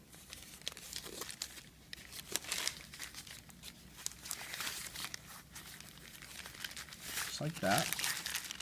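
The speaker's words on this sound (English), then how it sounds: "now I'm going to take my coils, my newspaper coils, tape one end together" Newspaper coils being handled and taped together, with crinkling and rustling paper and a short tearing of tape near the end, under a person talking.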